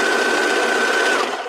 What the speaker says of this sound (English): you might want to sew it with the sewing machine first